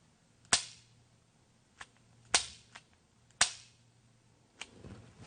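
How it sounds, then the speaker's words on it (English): Sharp, dry trigger clicks of an empty double-action revolver being dry-fired, several separate snaps spaced about a second apart with fainter mechanical ticks between them, close and alone. "I'm working the action and watching the sights to make sure that I'm not yanking the trigger of the revolver"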